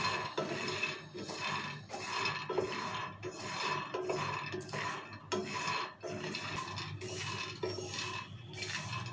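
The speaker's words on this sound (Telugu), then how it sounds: "సో మీడియం ఫ్లేమ్లోనే నిదానంగా మంచిగా వేయించుకోవాలి" Peanuts roasting slowly in a pan over a medium flame, stirred with repeated scraping and rattling strokes in an uneven rhythm, close and fairly quiet with no talking.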